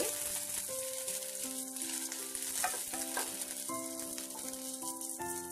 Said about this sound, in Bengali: গাজর বিনস আর কাঁচা লঙ্কাগুলো খুব ভালো করে আমি ভেজে নিচ্ছি